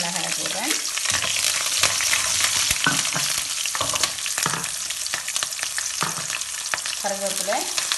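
Green chilies fry in hot oil for lemon rice, a steady close sizzle broken by stirring scrapes and clatters of a spoon against the pan, with no talking.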